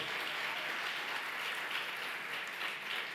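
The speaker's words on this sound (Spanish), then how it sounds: "denle un aplauso bien cariñoso, por favor" Church congregation warmly applauding visitors from Austin, an even wash of many clapping hands at moderate level, continuous and without talk throughout.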